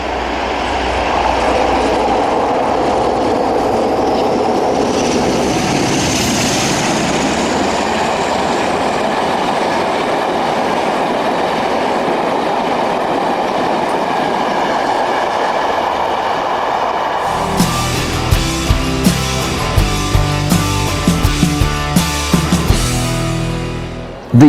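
British diesel locomotive 47829 opening up at Burton, a loud sustained engine roar building steadily, then giving way to rhythmic clickety-clack of wheels over rail joints near the end.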